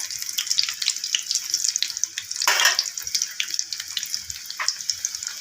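Egg lobongo lotika pastries sizzle and crackle steadily in hot oil with a bright, continuous hiss. There is a brief louder surge in the middle.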